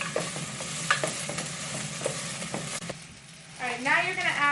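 Garlic fries in a hot pan while a utensil stirs it, giving a steady sizzle broken by regular scraping knocks; near the end a voice talks over the fading sizzle.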